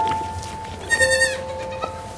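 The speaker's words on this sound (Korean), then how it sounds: "어디선가 이상한 소리가 들려 헨리와 마크는 그 소리를 따라가며 그 소리의 정체를 찾습니다. 아기 염소들이 가득한 작은 방으로 들어가게 되고" Baby goats bleat in a small room, a clear nearby cry rising above a steady background hum, with a fainter second bleat after it.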